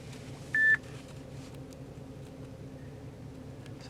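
Android Auto starts up on a car's dashboard display after a phone is plugged in, giving a single short electronic beep over a quiet, steady hum inside the car.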